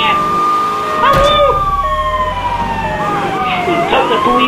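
A police car siren wails in the video game Grand Theft Auto III, a loud, close electronic tone sweeping and falling, joined by brief engine and impact noises with a rumble underneath.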